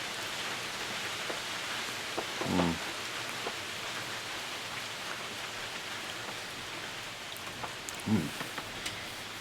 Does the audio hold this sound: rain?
yes